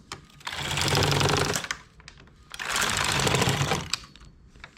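A machine knitting a blouse in English rib makes two long bursts of rapid mechanical clatter and whirring, each lasting about a second and a half. Quieter clicks and pauses come between the bursts, and no one speaks.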